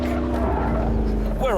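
A McLaren 12C Spider spins off a race track, its engine droning steadily with rising tire squeal and skidding near the end, while someone talks over the noise.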